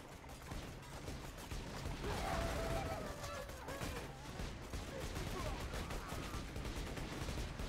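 Rapid bursts of gunfire in Borderlands 2 rattle continuously at moderate level, dense and mechanical, with a voice talking over the shooting.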